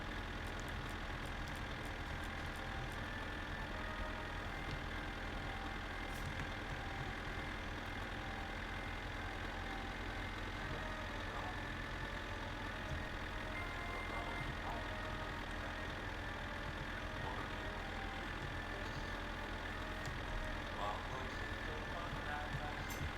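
A tractor engine in a farming video game runs steadily with nothing hitched behind it, a constant mid-low drone that holds level throughout with no clear changes in pitch.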